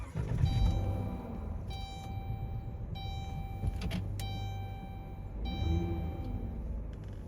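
A car starting back up amid steady engine and cabin hum, with a few short electronic tones and mechanical clicks repeating every second or so, plus a brief rattle near the middle; no one speaks.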